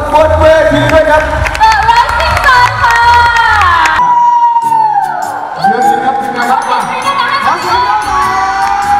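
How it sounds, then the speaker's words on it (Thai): Fan-meeting audience cheering and applauding for performers on stage, a loud, dense crowd roar with shouts and screams that drops briefly and then swells again, with music in the background throughout. "ขอเสียงปรบมือให้กับนักแสดงของเราทั้งหมดบนเวทีด้วยกัน"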